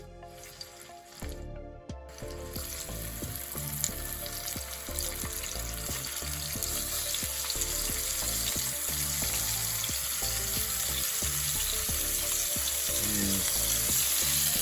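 Lamb laid into hot oil in a pan at a riverside bush campsite, giving a strong, continuous sizzle that builds and stays steady under faint crackles, with no talk.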